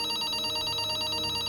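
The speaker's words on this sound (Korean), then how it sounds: "그때 수사팀에 전화가 한 통이 걸려와요." A telephone bell rings steadily and continuously in a police investigation team's office, its bright metallic tone held at an even loudness throughout with no voices.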